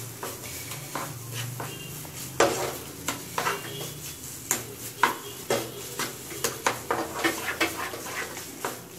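A spoon repeatedly scrapes and stirs carrot halwa, sweetened with sugar and garnished with cashews and pistachios, in a pan; steady rhythmic clacks and scrapes over a soft sizzle, close and clear, with no speech.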